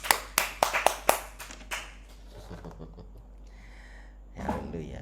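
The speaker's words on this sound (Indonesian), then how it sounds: "Biar semangat, tepuk tangan dong buat Tuhan Yesus." A church congregation gives a short burst of hand claps for Jesus, a handful of sharp, loud claps in quick succession that fade into a quiet room with faint murmuring.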